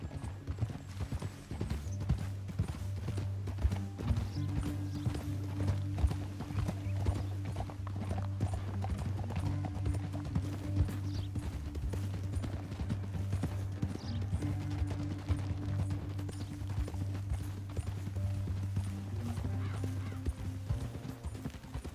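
Horses galloping in Red Dead Redemption 2, rapid steady clip-clop of hooves running throughout, with an occasional whinny and a low music bed beneath.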